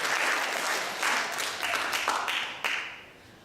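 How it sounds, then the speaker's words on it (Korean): A Korean Presbyterian church congregation gives a brief burst of hand clapping in the sanctuary, swelling in short waves before fading out. "우리 박수 한번 쳐주십시오."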